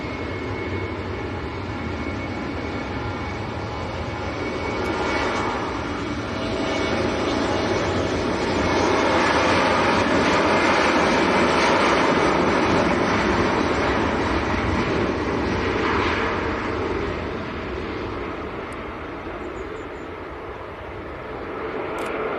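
A TAP Air Portugal airliner departs Manchester Airport bound for Lisbon, its jet roar swelling to a loud peak midway and then slowly fading, a continuous broad rumble with no voices over it.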